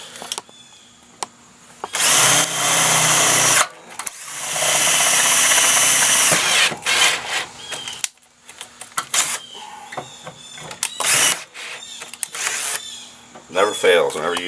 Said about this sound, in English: 17/64 drill bit. That's what I found that seems to work the best.